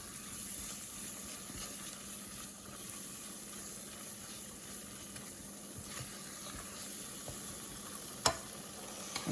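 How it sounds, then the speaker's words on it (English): Sugar melting in a pan for halva sizzles softly and steadily, with faint stirring scrapes and a brief sharp clink near the end. "the sugar is almost melted. You can hear it sizzling."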